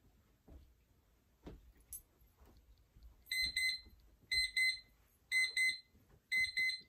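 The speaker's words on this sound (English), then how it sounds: "Our timer's gonna go off, and our activity will be done." After a few soft thumps, a high electronic alarm beeps in four repeated bursts, each a rapid double-pulsed chirp, loud and near.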